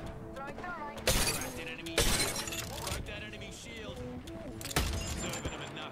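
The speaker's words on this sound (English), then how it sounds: "Broke that enemy shield." An enemy shield shattering in the video game Apex Legends, several sharp glassy bursts of breaking over game noise and gunfire, with a voice speaking underneath.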